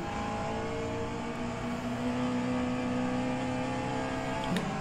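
A Glickenhaus hypercar engine in the racing sim rFactor 2 holds a steady, loud droning tone with a constant pitch throughout, heard alone without speech.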